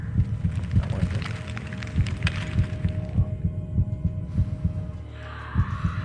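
Steady, thumping heartbeat pulses in a Minecraft Decked Out dungeon, a regular low double-beat rhythm repeating throughout under a faint ambient hum.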